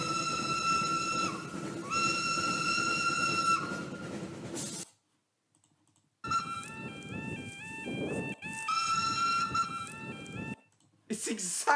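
Steam locomotive whistle sounding in long sustained blasts over a steady hissing, rumbling background, with a brief gap of near silence midway before the whistling and train noise resume, loud and close.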